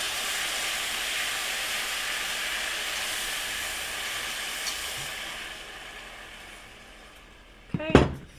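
White wine poured into a hot pan of risotto rice hisses and steams in a loud, broad sizzle that slowly fades over several seconds, ending in a brief clatter of the pan near the end.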